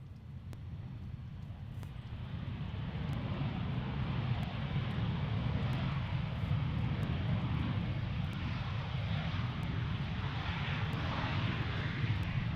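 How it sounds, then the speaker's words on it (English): An American Airlines Airbus A320 airliner at Gerald R. Ford International Airport in Grand Rapids gives a steady, broad engine roar that rises over the first few seconds and then holds loud and continuous. "Airbus A320 from American."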